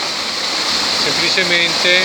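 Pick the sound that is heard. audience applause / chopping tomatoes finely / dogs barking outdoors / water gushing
water gushing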